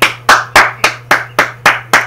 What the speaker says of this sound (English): I gotta clap it up for you, dude.